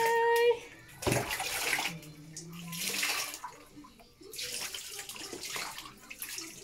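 A basin of water is poured over a dog being bathed outdoors, splashing and gushing in heavy bursts with short pauses between, close by, while people talk over it.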